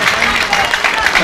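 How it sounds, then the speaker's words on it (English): A rugby stadium crowd erupts after a successful kick through the posts: a dense, loud roar of cheering and applause, sustained through the whole brief moment. "the crowd will signal that it has split the posts"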